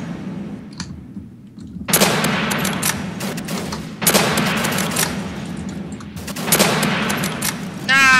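Automatic MP40 gunfire in the Roblox shooter Call Of Robloxia, delivered as three loud sustained bursts of rapid shots, each a couple of seconds long, with brief quiet gaps and clicks between them.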